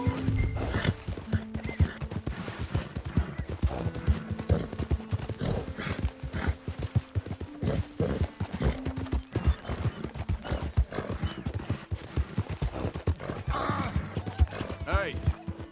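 Horse hooves clip-clop steadily and close in the Red Dead Redemption 2 video game, a busy rhythmic patter with an occasional whinny, running through the whole stretch under some background voices.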